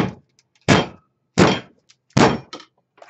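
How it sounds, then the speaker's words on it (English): A soap mold full of freshly poured cold process soap is banged down on a hard surface three times, producing loud, close, separate thuds about three quarters of a second apart. "Forgive the bang, but I have to bang this."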